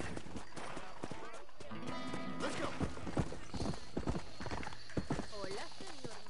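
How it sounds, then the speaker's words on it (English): Horse hooves clip-clop in a steady trotting rhythm in Red Dead Redemption, with a horse whinnying and people talking over the hoofbeats. "Horsey, let's go."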